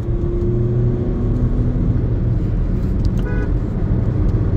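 A 2017 Audi Q3 quattro all-wheel-drive SUV driving in sport mode, its engine humming steadily from inside the cabin with road noise, a brief horn-like toot partway through.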